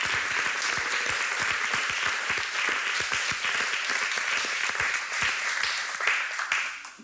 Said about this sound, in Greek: Έχετε το μεγάλο μας χειροκρότημα.